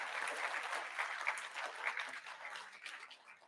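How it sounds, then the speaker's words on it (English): Applause from the audience at a mayoral town hall in Wausau, a fairly soft but steady wash of many hands clapping, heard from a distance with no talk over it. "give yourselves a round of applause for being here tonight"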